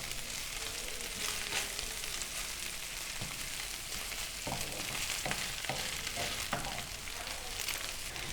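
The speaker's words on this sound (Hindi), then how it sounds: "इसलिए आपने इसको मीडियम फ्लेम पर बनाना है और हल्का हल्का इसको हिलाते रहना है।" Chicken haleem being stirred on a medium flame gives a steady frying sizzle, with soft spoon scrapes and clacks in the pot through the middle and later part.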